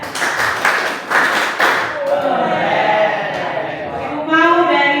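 A classroom group gives a quick patterned cheer clap, several sharp rhythmic bursts of hand claps near at first, then fading as children's voices and chatter take over.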